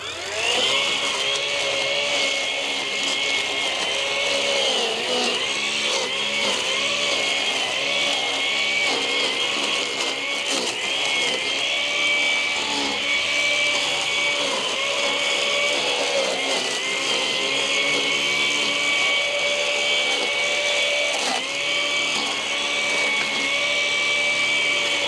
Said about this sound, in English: we're just going to trim this little area right here from here to here, just to see how it handles all these super tall weeds